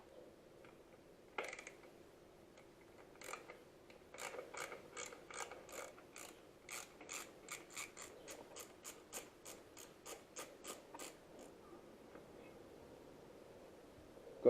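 A hand ratchet unbolts the chain guard bolts on a crash-damaged Yamaha WR125X motorcycle, giving a faint tick and then a quickening run of crisp, evenly spaced pawl clicks, close by with no voices.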